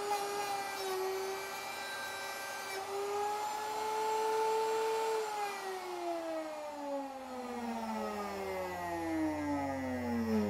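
Electric router whining at high speed as its raised bit makes a second pass through wood in a garage workshop, pitch holding steady then sliding down as the motor spins down, loud and close.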